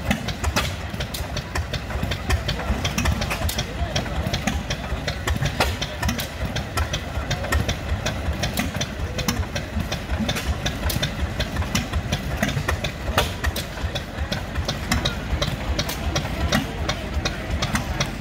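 Old hit-and-miss engines run at an outdoor heritage weekend festival, giving a steady, rhythmic chuffing and knocking with a low mechanical thump that repeats evenly throughout, moderately close and without talk.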